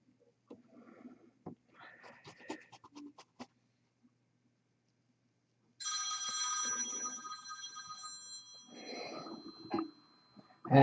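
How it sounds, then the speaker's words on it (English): A phone rings indoors with a bright electronic trill that starts partway through after quiet brushing and small handling noises, ringing steadily before a pause and a brief return. "that is my phone with another scam call that is not worth even acknowledging"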